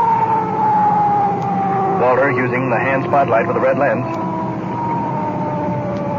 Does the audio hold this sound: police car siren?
yes